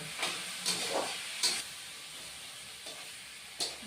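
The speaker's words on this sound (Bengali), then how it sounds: "এখন আবার এক মিনিটের মতো বন্ধুরা কষে নেব" Bathua greens being stir-fried in a pan, with a soft steady sizzle and a few short bursts of scraping as they are stirred. Fairly quiet, with no talking.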